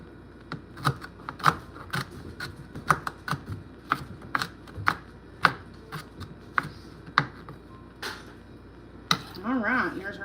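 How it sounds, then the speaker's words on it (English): Knife tapping and scraping on a cutting board while cutting the seeds out of a jalapeno pepper, a run of short, quick, irregular ticks near at hand, with a voice briefly heard near the end. "I'll cut these seeds out."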